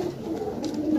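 Close, soft cooing of pigeons kept for sale, a low burbling call that rises and falls continuously over a quiet background, with no talk.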